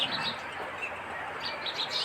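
Sparrows at a village home chirp and squabble in quick, sharp bursts of tweets, fairly close, over a soft background hum.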